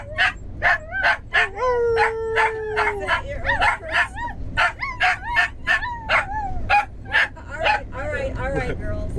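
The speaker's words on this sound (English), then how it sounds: "it's time for a group howl!" Several dogs howl and yip together outdoors in the wilderness of Yellowstone National Park, with rising and falling wails and sharp repeated barks in a busy, close chorus that continues steadily.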